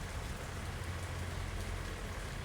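Steady rain falls in the city-building game Workers & Resources, a dense, even hiss of rainfall at low volume with no other sounds.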